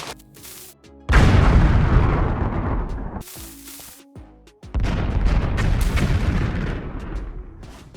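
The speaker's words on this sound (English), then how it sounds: "These TNTs explode like the explosive shells from the Create Big Cannons mod" Booming game explosions from TNT in Minecraft with the Create Big Cannons mod, two loud broadband blasts each followed by a long rumbling decay, with a quieter burst at the start.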